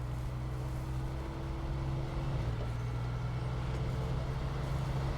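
Scout truck in SnowRunner rumbling along off-road, a steady low engine drone with a slight pitch shift midway, constant and fairly loud with no talking.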